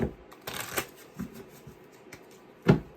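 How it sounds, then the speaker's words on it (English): Cards are shuffled up close, soft slides and taps with a few sharper clicks, a steady irregular rhythm ending in a louder snap. "I'm going to shuffle one more time and then go through them"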